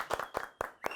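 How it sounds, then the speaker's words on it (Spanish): Scattered handclaps from a small audience welcoming a guest onto a stage, a few separate bursts spread across a brief moment, fairly faint. "Recibamos con un fuerte aplauso a Emil Mariani."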